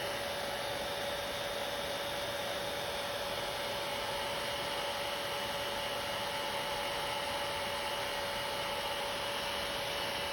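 Handheld hair dryer blowing steadily to dry freshly applied lacquer nail polish, a constant close whooshing airflow hum with a steady motor whine, unbroken throughout with no talking.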